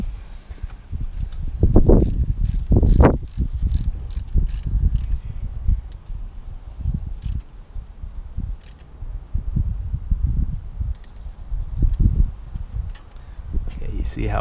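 A ratchet wrench snugging a weak screw with short, choked-up strokes on a 2009 Toyota Corolla 1.8, with several bursts of crisp clicks around low handling noise.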